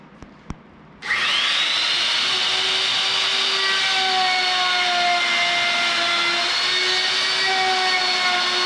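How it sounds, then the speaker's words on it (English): A router or saw whines up to speed while cutting a dado into oak boards, starting after a couple of light knocks, then holding a loud, steady high-pitched tone close by. "I just want to make a dado to positively locate these divider panels."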